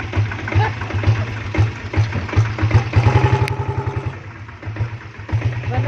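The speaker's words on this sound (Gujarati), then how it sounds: "ટ્રેક્ટર આવે છે" A tractor engine chugs with a rhythmic diesel beat, growing louder and clattering as it draws near, then easing off toward the end.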